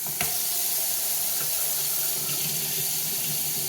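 Steady rush of water pouring from a tap into a sink, continuous and close with no voices.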